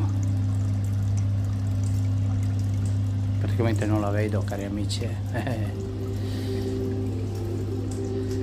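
Water trickles continuously in a dark convent nativity scene, a steady soft pour under a low hum while someone speaks briefly partway through.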